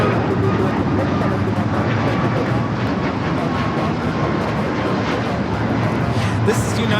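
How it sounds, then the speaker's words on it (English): A United Airlines Boeing 737 MAX 9 jet takes off from Los Angeles LAX on a flight to Denver, a steady broad engine roar holding loud and even throughout, with a faint voice in the background. "This is United Airlines Flight 311 taking off to Denver on the MAX 9."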